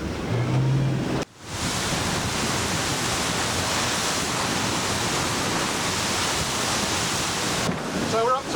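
Princess V48 motor boat running hard through rough sea at about 23 knots, a loud, steady roar of wind, hull and spray that fills the whole stretch with only a brief dip near the start.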